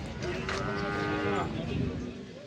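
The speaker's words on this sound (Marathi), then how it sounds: "आज आपण आलेलो आहे चाळीसगाव बैल बाजारमध्ये" A bullock lets out a long, drawn-out moo close by, over a low background murmur of a busy outdoor crowd at the Chalisgaon cattle market, where Khillar bulls are sold.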